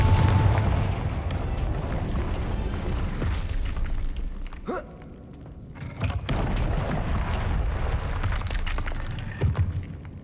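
A Confringo fire spell explodes in the Hogwarts Legacy video game, with loud booming blasts and rumbling bursts that fade into a brief lull before more heavy impacts follow.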